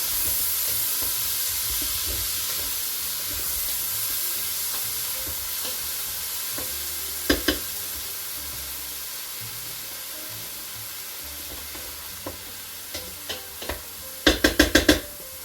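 Minced garlic and ingredients hiss softly in a Ninja Foodi XL pot, a low steady sizzle broken by a few sharp spoon scrapes and clacks against the pot, clustered near the end.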